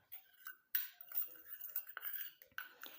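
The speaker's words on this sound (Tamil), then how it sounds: "இந்த இஞ்சி சாறில் இதை நல்லா கலந்து விட்டுருங்க." A utensil stirs and clinks against a small bowl as tooth powder is mixed into ginger juice, giving faint, irregular scraping and tapping sounds close by.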